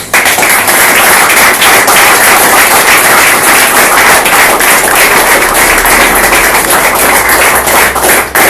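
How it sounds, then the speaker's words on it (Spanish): A church congregation bursts into loud, sustained applause, dense rapid clapping filling the room without a break for several seconds. "Denle un aplauso a Dios."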